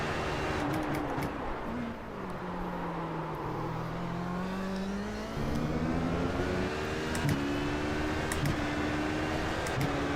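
An HPD prototype race car engine in iRacing at Laguna Seca, a steady loud drone with rising and falling pitch as it accelerates and shifts up the hill, heard alone.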